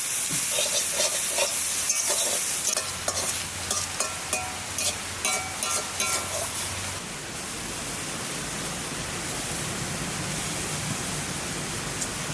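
Long beans with onion, turmeric and salt stir-fry in a wok, a broad steady hiss with a run of spatula clanks early that then settles into quieter sizzling.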